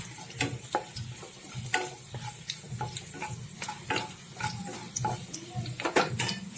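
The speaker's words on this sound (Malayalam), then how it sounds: "കടുക്, ഇനി വറ്റൽമുളക് 2 എണ്ണം, അത് നമുക്കൊന്ന് ഇളക്കി കൊടുക്കാം." Mustard seeds and two dried red chillies fry in hot oil while being stirred, giving a steady close crackle and sizzle with sharp popping spatters and scraping stirs throughout.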